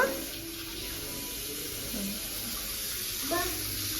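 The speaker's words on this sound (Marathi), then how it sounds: "तू खेळायला आले तिथे पाण्यासोबत." A child splashes and plays in a steady stream of running tap water, a continuous hiss of flow under occasional adult speech nearby.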